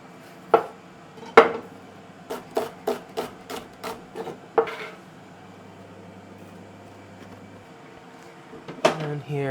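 A small yellow onion chopped with a knife on a cutting board, a run of crisp, evenly spaced knife strikes at close range with a few scattered cuts before and after, in a quiet kitchen.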